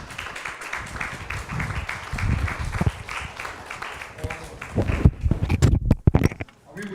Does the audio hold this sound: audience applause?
yes